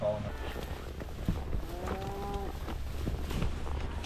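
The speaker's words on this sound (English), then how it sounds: "The sound of cattle in the morning." Cattle moo in the morning on a remote Montana cattle drive, a few drawn-out lowing calls at moderate distance over a soft outdoor background.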